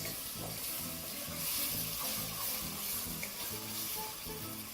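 Tomatoes frying in a pan with a splash of stock for Kenyan muthokoi, giving a steady, moderately loud sizzle that runs without a break under some low tonal background sound.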